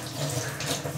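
Water pours steadily for about a second while naru is being made at home, a brief close splashing flow with no talk.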